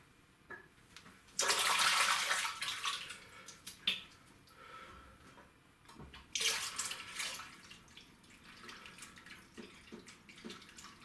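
Shaving soap worked into a lather in a bowl with a brush, giving bursts of wet swishing and squelching with short pauses and quieter stirring between, close up with no talk.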